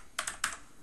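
Keys clack on a computer keyboard as a meeting name is typed: a few quick bursts of close, fairly soft keystrokes with brief pauses between them.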